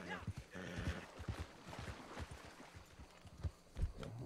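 Hooves clip-clop in an uneven galloping rhythm, close and fairly loud, with occasional snorts and a voice speaking briefly over the movement, in the video game Red Dead Online.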